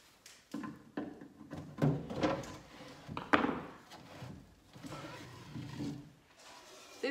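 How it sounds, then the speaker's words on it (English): Wooden drawers pulled from an old dovetailed vintage dresser, a series of close knocks, scrapes and hollow thuds of wood sliding and bumping, irregular and fairly loud. "But first I need to get the drawers out."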